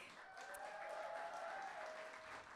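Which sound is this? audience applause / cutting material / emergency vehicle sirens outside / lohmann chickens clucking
audience applause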